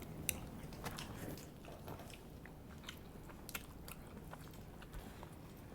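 Someone biting and chewing a slice of brown sugar bubble pizza, soft close-up mouth sounds with occasional crunchy bites and squishy chews over a low room hum, no talk.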